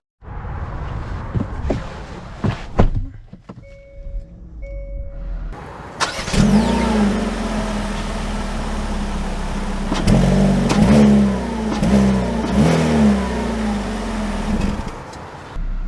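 A 2023 Hyundai Kona SEL AWD starts up after a few door and cabin clicks, then its engine idles and revs as the car pulls away, loud and close from inside.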